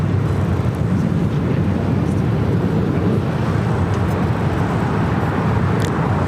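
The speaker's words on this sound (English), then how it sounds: "Let's take a look at that Frontier A320." A Frontier Airlines Airbus A320 at LAX makes a steady, loud, broadband jet roar that holds without a break, with no voices.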